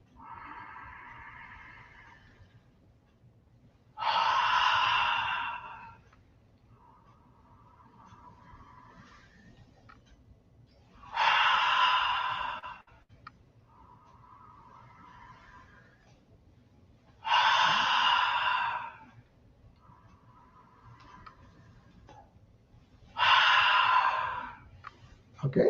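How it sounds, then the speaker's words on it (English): Four long, deep breaths are exhaled through an open mouth with an audible "ah" during a warm-up breathing exercise, each a loud, breathy rush several seconds long, spaced by quieter inhales. "And now open the mouth, and with the word saying ah, breathe out."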